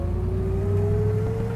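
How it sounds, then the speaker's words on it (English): A 1969 Chevrolet Chevelle Yenko tribute idles with a deep, steady V8 exhaust burble, its pitch rising slowly as the engine is revved, loud and close with no talking. "this exhaust is sounding phenomenal"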